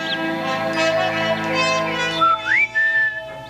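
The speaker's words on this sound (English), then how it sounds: "Even the Grinch woke up whistling" The Grinch whistles a bright, wavering melody over a sustained musical backdrop, with a rising slide and a held note toward the end.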